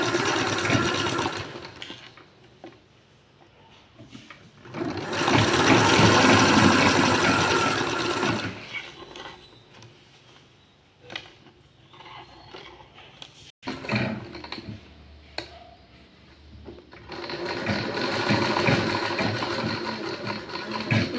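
Sewing machine stitching piping onto fabric, running in loud whirring bursts of several seconds each, separated by quieter stretches of softer motor noise and handling, close up with no voices.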